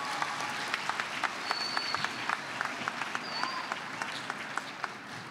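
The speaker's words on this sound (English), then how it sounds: "give yourselves a round of applause." Students at a Latino youth conference applaud themselves in a large hall, a steady wash of crowd clapping with scattered distinct claps and a few faint cheers, moderately distant.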